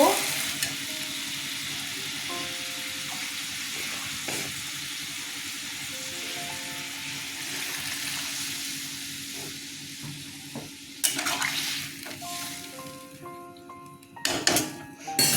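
Water poured into a sizzling pan of potato and green banana curry, then stirred with steady scraping and clinking of a utensil against the pot, close and continuous, with a few louder knocks near the end.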